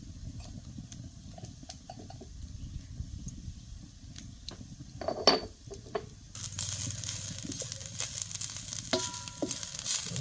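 Dried grated coconut roasting in a pan with turmeric and Kolhapuri red chili powder, a soft steady sizzle with light stirring scrapes that grows louder and fuller in the second half.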